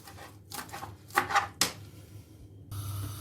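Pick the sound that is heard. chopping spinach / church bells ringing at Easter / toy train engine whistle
chopping spinach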